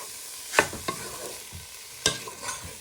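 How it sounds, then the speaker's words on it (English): Pork pieces frying in a pan while a wooden spoon stirs and breaks them apart, a soft sizzle with a few sharp scraping clacks at irregular intervals and no talking. "So you just keep stirring them and breaking them apart with the wooden spoon."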